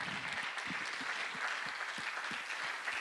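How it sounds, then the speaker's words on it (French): Audience clapping steadily at a corporate convention, a dense, even patter of many hands held at a moderate level for the whole stretch, with no voices over it. "On les applaudit encore"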